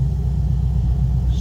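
A 2010 Chevrolet Camaro 2SS with a Magnuson supercharged 6.2 liter V8 idles nearby, giving a deep steady low rumble with a slight pulsing throb and no revving.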